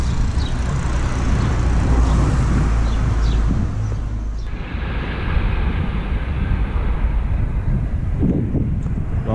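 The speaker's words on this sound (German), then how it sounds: "Wahnsinnig, diese Züge, die ein Tempo drauf haben und dieser Lärm." Fast trains passing near a walking path outside Paris, a loud broad roaring rush that sweeps past and fades, followed by more steady rushing rail noise.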